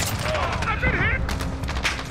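Rapid P90 submachine gun fire in Modern Warfare rattles densely and loudly throughout, mixed with game effects and a voice talking over the shooting.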